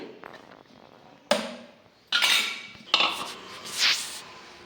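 Coriander being mashed in a pan with a utensil: sharp metallic clanks and scraping strokes, several distinct hits and grinding passes, fairly close.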